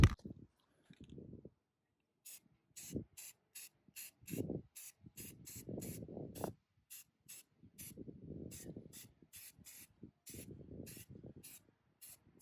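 Enamel paint sprayed onto a rusty fence in a steady series of short, sharp hissing bursts, close up, with some low rumbling noise between them.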